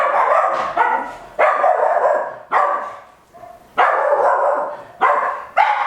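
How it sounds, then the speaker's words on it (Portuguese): A dog barks loudly and repeatedly nearby indoors, a series of harsh barks in uneven bursts with brief pauses, dominating the room. "a gente precisa lidar com essa porra latindo"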